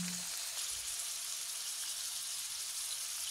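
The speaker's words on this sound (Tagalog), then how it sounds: "igisa na natin ang bawang sibuyas, carrots" Garlic, onion and carrots sautéing in a pan, a steady close sizzle with a faint brief clink near the start and no talking.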